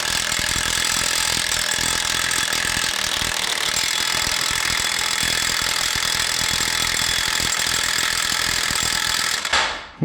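A SHIDOKU SH G2 cordless impact wrench with a 3/4-inch square drive hammers on an old, slightly rounded nut, its loud, steady rattling impacts running continuously for about nine and a half seconds before stopping abruptly.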